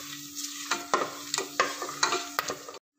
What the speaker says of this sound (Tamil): அதே ஆயில்ல நம்ம வச்சிருக்க ஸ்பைசஸ் போட்டுறலாம். இது நல்லா வதக்கிக்கலாம்.